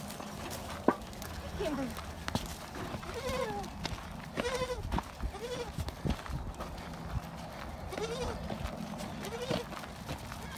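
Several goats bleat repeatedly at close range, overlapping calls over shuffling and rustling movement.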